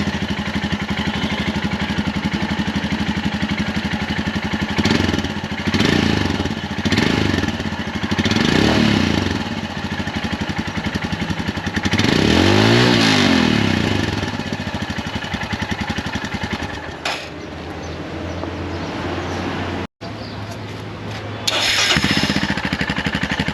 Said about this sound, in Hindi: अभी इसका अपन आवाज़ सुनते हैं विद डीबी किलर और विदाउट डीबी किलर।